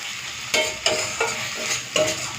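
Fennel-spiced katla fish and vegetables are stirred in a frying pan. Vegetables sizzle steadily up close, and four or five sharp scraping strokes of the spatula land in an uneven rhythm.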